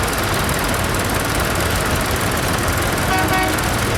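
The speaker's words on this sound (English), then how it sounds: "A lovely little two-cylinder standard petrol engine" A two-cylinder Standard petrol tractor engine runs in the arena parade at a spring fayre, giving a loud, steady chugging throb close by, with a brief horn-like tone near the end.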